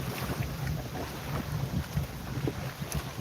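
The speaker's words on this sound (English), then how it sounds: "Come on, waves, calm down." Small river waves lap against a fishing boat pulled up on the bank of the Ohio River, a steady low slosh with gusts of wind buffeting the microphone throughout.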